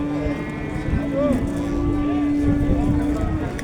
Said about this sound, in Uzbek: Sigirlar yuvosh.